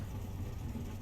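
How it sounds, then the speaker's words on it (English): Hot rod engine in Car Mechanic Simulator 2021 rumbling steadily at idle, a low, continuous throaty drone at an even level throughout, with no voices over it. "Oh, listen to that Hot Rod."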